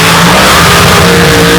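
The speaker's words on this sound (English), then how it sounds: "can the Hemi get past the nitrous injected Blazer?" A Hemi-powered dragster and a nitrous-injected Chevrolet Blazer roar down a drag strip at full throttle, a loud, saturated, continuous engine howl close by with no pauses.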